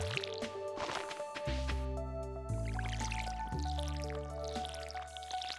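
Watering crops with a watering can in Stardew Valley, a soft burst of splashing water over steady game music with layered melodic tones, no talking.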